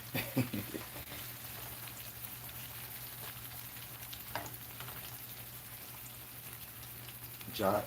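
Potatoes frying, a continuous close sizzle and crackle with stirring clatter, a few louder bursts at the start and end, and faint voices murmuring underneath.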